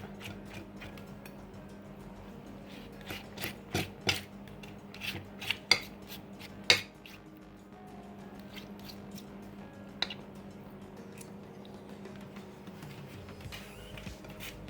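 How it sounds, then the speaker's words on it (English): A utensil scrapes gel from an aloe vera leaf, making wet scraping strokes and several sharp clicks and taps against the leaf and a dish in a short burst, then quieter scraping, all close by and without speech. "I am going to scrape out the gel."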